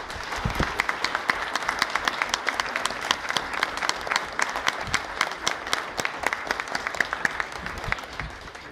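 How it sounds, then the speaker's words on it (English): A large audience at a mayoral candidate forum applauds the candidates in a steady, dense round of clapping that holds at an even level from start to finish, with no talk over it. "Can we get a round of applause for your candidates"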